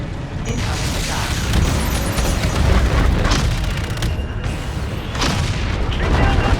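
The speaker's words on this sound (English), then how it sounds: "Incoming missile." Missile explosions and heavy combat booms from the futuristic shooter Call of Duty: Infinite Warfare, loud and continuous, with dense rumbling blasts layered over mechanical game noise and no clear speech.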